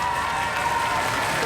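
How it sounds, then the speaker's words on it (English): A studio crowd at a Robot Wars battle applauds in a dense, continuous wash of clapping and cheering heard for a brief moment. "Why are they cheering?"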